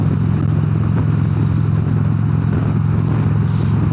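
A custom 2016 Harley-Davidson Road Glide touring bagger cruises in sixth gear with a loud, steady low engine drone and constant wind rumble, unbroken from start to finish.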